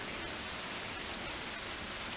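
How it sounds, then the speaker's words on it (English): Rain falls in a steady, soft, even hiss with no breaks and no voices. "Hanging out with Photo in the rain."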